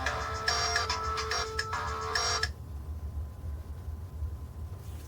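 A mobile phone rings indoors, a bright repeating electronic tone in short bursts that stops abruptly partway through, leaving quiet room noise.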